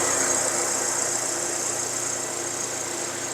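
A Hyundai Avante MD, a twelve-year-old compact car with push-button start, idles with an even, steady hum and faint mechanical whir, heard up close without talk for a few seconds.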